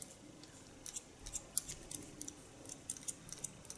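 Hairdressing scissors cutting hair during a short haircut, quiet crisp snips in an irregular rhythm, close and faint with no talking.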